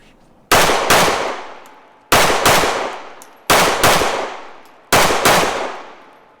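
SIG Sauer P365 Fuse pistol firing four loud, sharp reports in two quick pairs at an outdoor range, each crack ringing out with a short echo tail before the next pair.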